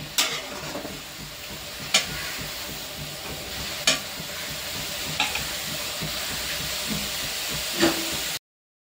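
Paneer cubes sautéing in masala in a pan for an Indian paneer curry, giving a steady close sizzle and hiss with a few sharp stirring scrapes, no talk.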